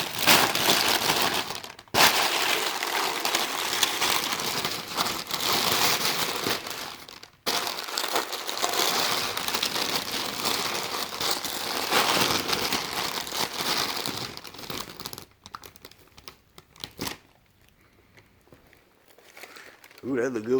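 Masking paper and tape are torn and peeled off a fresh paint job. The close crinkling, ripping and crackling runs continuously with brief pauses and then fades into quieter handling near the end.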